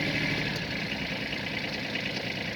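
A Kubota GB130 mini tractor runs its 110 cm rotary tiller in first gear, giving a steady engine drone with a faint rattle. The sound holds even and unbroken at moderate level.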